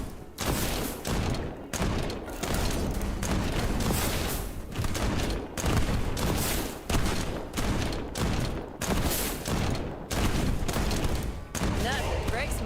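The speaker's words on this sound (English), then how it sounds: "Back to the pistol for now" Rapid gunfire from a video game pistol, loud and sustained with dense overlapping shots broken by a few brief gaps, with a voice talking over it at times.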